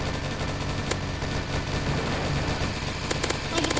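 Rapid bursts of machine gun fire in the Roblox game Zombie Attack, crackling over a dense, steady game soundtrack, with a short volley near the start and clustered rattling bursts toward the end.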